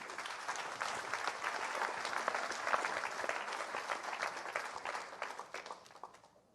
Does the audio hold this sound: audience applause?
yes